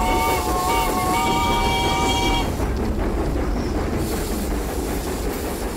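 A steam locomotive train runs along a railway with a steady loud rumble and clatter, a high whistle-like squeal tone over the first half, then continuing rolling noise alone.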